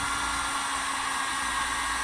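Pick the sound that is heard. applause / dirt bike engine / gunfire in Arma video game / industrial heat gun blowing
industrial heat gun blowing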